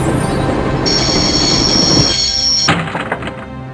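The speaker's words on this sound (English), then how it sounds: "I always wanted to stop the train, and now was my chance." A train in the Broken Sword game screeches as its wheels squeal under braking, a steady loud rumble with a long high metallic whine that cuts off abruptly, followed by heavy clunks as it halts.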